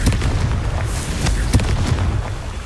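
Confringo blasting spell exploding in the Hogwarts Legacy video game, a series of deep booming blasts and rumbles over a continuous low roar, loud and close.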